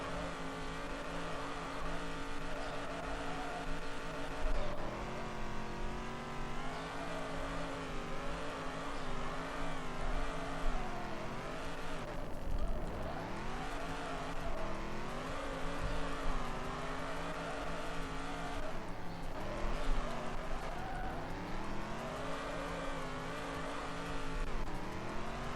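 V8-engined drift car in the Drift Streets Japan game, the engine revving continuously and swooping up and down in pitch as the car slides, with occasional tyre squeal, loud and uninterrupted.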